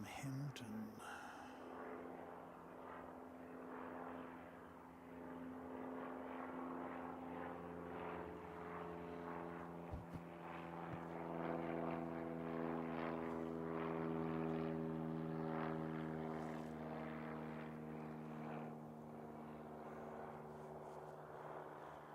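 A Pilatus PC-12 single-engine turboprop flies past near an airport, its steady propeller drone with strong tonal harmonics holding loud and continuous throughout, while faint talk runs underneath.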